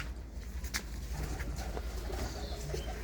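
A desi pigeon hen, a breeder female with white eyes, coos softly in low repeated calls against a steady background hum, with a brief flutter and faint chirps, no speech.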